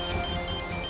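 A phone ringtone plays steadily for under a second, a bright repeating electronic melody over a low background hum, with no talking.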